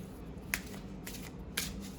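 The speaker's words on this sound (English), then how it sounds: "I'll riffle shuffle it in just a second." An oracle card deck snaps sharply twice, about a second apart, short crisp bursts of the deck being riffle shuffled over a low background hum.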